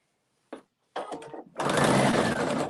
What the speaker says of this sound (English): we're just going to sew it on